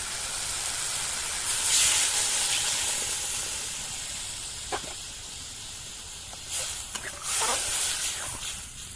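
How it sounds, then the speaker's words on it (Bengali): Water poured into a hot pan of frying onion, tomato and ginger-garlic paste, giving a loud, steady steaming hiss that swells and fades, with a few small knocks, close up. "এবারে আমি জল দিয়ে দিচ্ছি"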